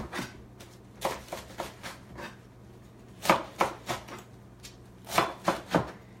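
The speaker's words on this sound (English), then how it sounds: "So I'm just going to go around and cut until I know I've cut to get bite-sized pieces" A knife cuts fresh vegetables into bite-sized pieces on a board, a series of crisp chops in uneven bursts, some single and some in quick clusters of three or four, close and clear with no talking.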